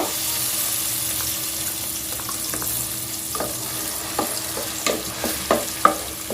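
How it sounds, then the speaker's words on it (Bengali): Four blended onions tipped into a hot pan for a pickle-style chicken curry, sizzling steadily with scattered stirring scrapes and clinks that grow more frequent toward the end. "4টি পেঁয়াজকে ব্লেন্ড করে নিয়েছি, এখন সেগুলো এখানে দিয়ে দেব"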